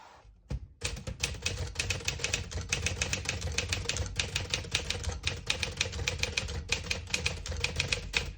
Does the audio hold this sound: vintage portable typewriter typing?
yes